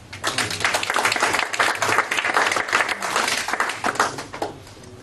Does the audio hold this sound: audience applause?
yes